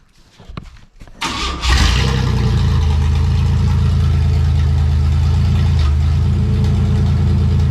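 A budget-build car engine cranks briefly after a few clicks, catches and roars up loudly, then settles into a steady, rough rumbling idle close by, with no talking.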